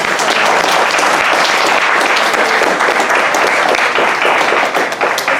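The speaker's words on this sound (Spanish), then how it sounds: "vamos a agradecer a Mariela con un aplauso" An audience at a talk on seeds applauds warmly, a loud, dense burst of clapping that holds steady throughout and tapers slightly at the end.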